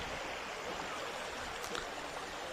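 Clear stream water flows steadily near Kannankurichi lake at the foot of Yercaud, Salem, a continuous close rushing and gurgling wash with no break and no voices.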